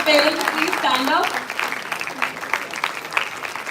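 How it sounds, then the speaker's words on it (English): Audience applause for proud parents at a college makers' fair event, a busy wash of clapping running throughout while a voice speaks over the first part. "a thundering round of applause to the proud parents as well"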